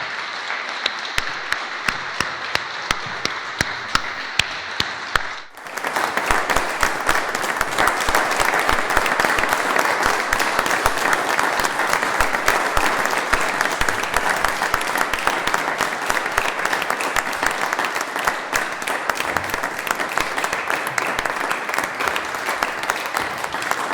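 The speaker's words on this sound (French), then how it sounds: "Maintenant, on peut vous applaudir." A church congregation at an Ascension Thursday service applauds, with a quieter stretch of scattered claps leading into a sustained, even wave of clapping that fills the hall at steady volume.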